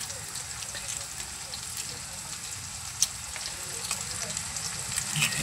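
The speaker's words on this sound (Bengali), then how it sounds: "তারপর ডিম ভাজা" Egg fries in a pan at a street-side noodle stall with a continuous crackling sizzle. Occasional light utensil taps sound close by, and a voice talks faintly in the background.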